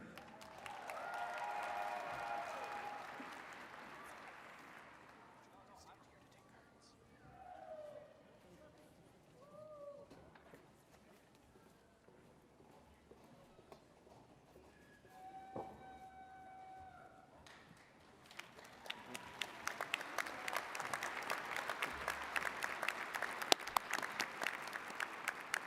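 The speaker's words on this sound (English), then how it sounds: "Please give a round of applause to the doctoral degree recipients." An audience at a university fall commencement claps for doctoral degree recipients. A fairly distant wash of applause rises at the start, thins through the middle, then swells again more densely toward the end.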